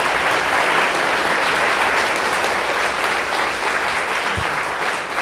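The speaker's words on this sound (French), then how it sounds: "je pense qu'on va applaudir à nouveau Thibaut et le remercier" Audience applause after a conference lecture on superintelligence at EPFL, a dense, loud, sustained roar of clapping from a large hall that holds steady and barely tapers near the end.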